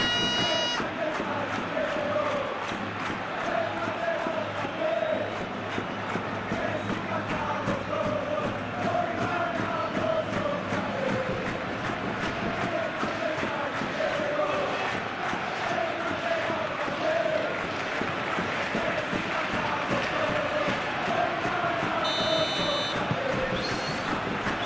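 A capacity stadium crowd roars steadily in a football simulation video game of a Real Madrid versus Bayern Munich Champions League match, a continuous dense murmur with a short buzzer-like tone near the end.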